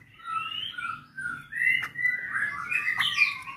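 A three-week-old straw-headed bulbul (cucak rawa) chick chirps repeatedly while being hand-fed, giving close, fairly loud high tweets and squeaky calls in irregular bursts, with no talking.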